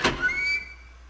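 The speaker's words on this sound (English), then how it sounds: "He pulled open the door and walked in." A heavy door pulled open in the video game 999: 9 Hours, 9 Persons, 9 Doors, giving one close thunk followed by a thin metallic creak that fades within about half a second.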